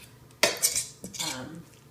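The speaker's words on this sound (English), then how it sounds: "are going to mash our banana in with the rice." Boiled banana being mashed into soft cooked rice with a metal utensil, heard as a few sharp clinks and scrapes against a pot followed by softer squelching strokes, close and alone.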